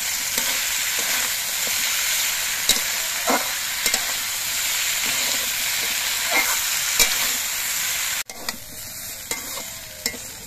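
Vegetables stir-fry with turmeric and ground spice paste in a pan, with a steady sizzle broken by repeated scraping stirs, and a brief drop in the sizzle near the end.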